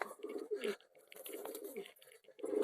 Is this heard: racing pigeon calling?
yes